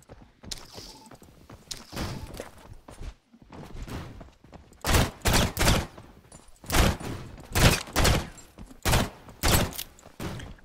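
Gunfire in the video game Knightfall comes as repeated loud bursts of rapid shots. Clusters of shots alternate with brief quieter gaps, growing denser toward the end.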